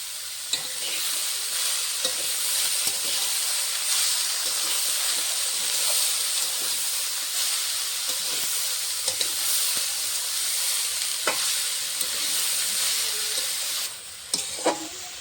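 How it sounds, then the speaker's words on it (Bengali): Cabbage with a little salt frying in a pan, a steady loud hiss and sizzle running for a long stretch, with occasional sharp scrapes and knocks of a stirring spoon, near and without talk. "বাঁধাকপিটা নেড়ে চেড়ে ঢাকনা দিয়ে চাপা দিয়ে দেবো।"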